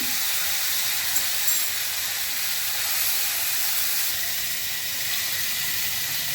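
Cauliflower frying in a pan with grated ginger gives off a steady, even steam-like hiss and sizzle that holds at the same level throughout, with no talking.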